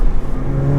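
A VW Golf GTI Mk5 with an APR turbo-back exhaust revs loudly up close, its engine note rising into a deep steady drone after a rough, uneven start.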